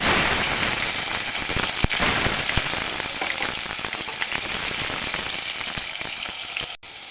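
Tomatoes hit hot oil tempered with black cumin seeds for a pabda fish curry and sizzle loudly and steadily, a dense crackling fry with scattered pops, close up and without talk.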